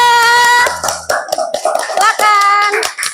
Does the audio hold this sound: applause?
yes